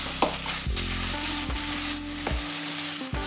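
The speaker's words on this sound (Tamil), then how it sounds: "நல்லா இஞ்சி பூண்டு பேஸ்ட்டு பச்சை வாடை போடுற வரைக்கும் எண்ணெயிலேயே நம்ம வதக்குவோம்" Ginger garlic paste frying in oil, loud close sizzling with repeated scraping stirs of a spoon against the pan, no voices.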